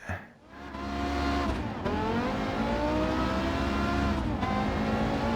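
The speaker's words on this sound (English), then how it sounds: "You can hear that V10." A Porsche V10 engine in Gran Turismo 7, revving to 8,500 RPM, climbs through its gears, pitch sweeping upward, dropping at each shift and rising again, loud and close throughout.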